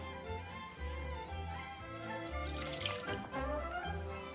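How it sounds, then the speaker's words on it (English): Milk is poured from above into a bowl of flour at home, a steady liquid stream with a brighter splashing surge near the middle, heard close up over faint background music and without speech. "Pour it in a bowl with the flour."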